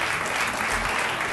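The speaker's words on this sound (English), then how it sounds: "So for them, a large round of applause." Brief, dense burst of audience applause at an evening event, a loud, uniform wash of many hands clapping with no gaps.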